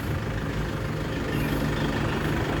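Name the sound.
modified 300 HP car arriving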